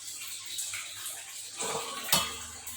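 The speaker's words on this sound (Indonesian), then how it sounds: "Kita masukkan ke dandang yang sudah kita panaskan airnya." A pear being placed into a steamer pot of heated water gives a few light metallic clinks and scrapes of lid and pot, ending in one sharp close clank, over a faint hiss.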